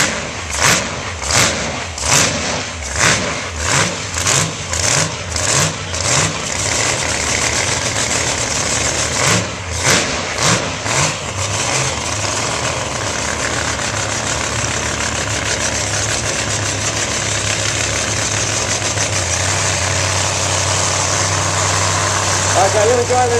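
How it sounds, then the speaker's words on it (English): Blown methanol drag car engine of about 2,000 horsepower at an outdoor wheels show, opening with a rapid series of sharp, loud revs, then settling into a heavy, rumbling idle with someone talking over it. "Isn't that a lovely sound? The blown methanol engine in the English sunshine."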